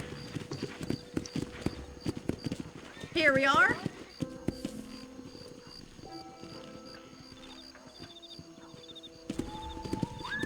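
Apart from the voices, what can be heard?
horse hooves clip-clopping in a video game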